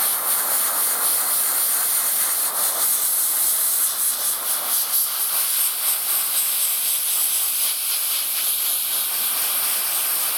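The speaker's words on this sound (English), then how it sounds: "I concentrate, like most times using an airbrush, in the recesses first." An airbrush sprays paint onto an Imperial Knight miniature, a continuous bright hiss with no break for about ten seconds, close and fairly loud.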